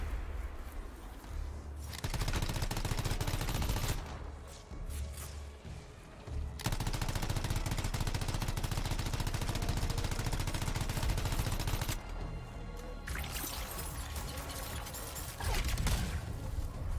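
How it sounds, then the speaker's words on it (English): Loud, dense enemy gunfire in the Anthem video game, with sustained bursts of automatic fire and heavy shots that fill nearly the whole stretch and drop briefly in a couple of short gaps. "someone's firing at me."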